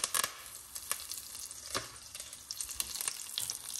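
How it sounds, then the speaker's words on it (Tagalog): Mustard and cumin seeds sizzle and crackle in hot oil in a pan, a close, quiet frying hiss broken by sharp popping bursts. "Let them sizzling."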